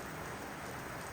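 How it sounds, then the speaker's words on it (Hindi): A steady, soft hiss of morning rain falls on a day spent stuck indoors, faint and even throughout with no voices. "आज सुबह से बारिश हो रही है"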